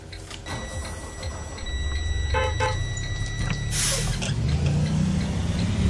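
A school bus in the Rigs of Rods driving game sounds repeated steady electronic beeps over a low engine rumble, with a brief burst of hiss partway through.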